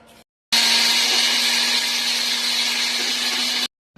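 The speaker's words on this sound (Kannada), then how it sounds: "ಇದು ಆದ್ಮೇಲೆ ನಾವು ಮಿಕ್ಸರ್ಗೆ ಹಾಕೊಂಡು ನಾವು ಪೌಡರ್ ಮಾಡ್ಕೊಬೇಕು" A kitchen mixer grinder whirs loudly while grinding dry-roasted spices into chicken masala powder. The steady motor roar starts suddenly, runs for about three seconds, and cuts off just as abruptly.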